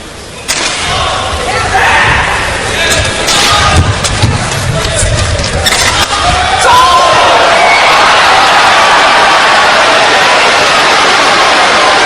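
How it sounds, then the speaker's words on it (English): Spectators packed around a badminton court at the 2009 World Championships mixed doubles match, screaming and shouting continuously in a loud, dense roar with sharp yells and thuds over the crowd noise. "Lots of screaming and shouting around this court."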